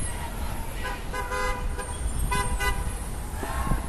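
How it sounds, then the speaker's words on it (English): Car horns honk several times from traffic passing along a New York City street during an anti-fur protest outside Dolce & Gabbana, short toots over a steady roadway roar. "As you can hear, a few people honking going by."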